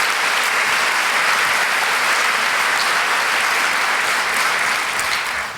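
Sustained, dense applause from a university audience at a political talk, loud and steady throughout before tapering slightly at the end.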